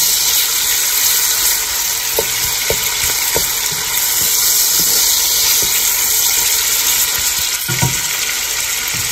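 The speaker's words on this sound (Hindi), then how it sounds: "प्याज जो है इसको हल्के लाइट से ब्राउन होने देते हैं।" Onions frying in oil in a pan until light brown, a steady close sizzle running throughout with occasional stirring clinks and scrapes, no talking.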